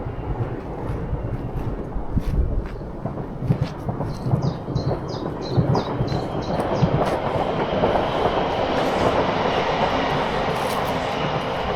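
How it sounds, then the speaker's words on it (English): A passing train rumbles steadily, its low roar building and swelling, with a run of rhythmic clicks partway through. "Hope that ain't my train."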